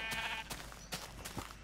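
Sheep in Minecraft bleating in quick succession, several short wavering calls close by and fairly clear.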